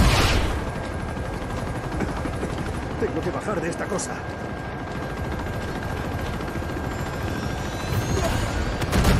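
A combat helicopter roars in Uncharted 2 while bursts of gunfire crackle around it, loud and sustained, and a character speaks over the din.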